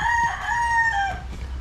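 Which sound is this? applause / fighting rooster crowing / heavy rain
fighting rooster crowing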